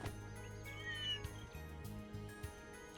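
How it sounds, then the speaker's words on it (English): A small cat in the Trails Through Daybreak game gives a couple of soft meows over a low, steady musical background, fairly faint and close. "Meow. Meow."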